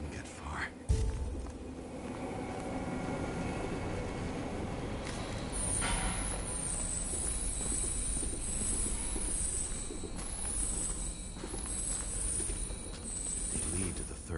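Steady low rumble of a moving train in the game Nobody Wants to Die, with rattling carriage noise and a sustained high squeal, while a voice speaks quietly over it.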